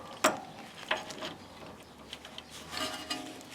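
Universal puller tool being fitted and tightened onto a ball joint nut on a Toyota MR2, giving a few sharp metallic clicks and scrapes, one loud near the start and lighter ones later, with no talking.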